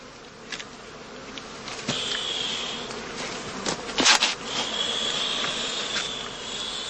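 Steady buzzing of many honeybees kept in skeps on heathland, a continuous hum with occasional louder passes close by.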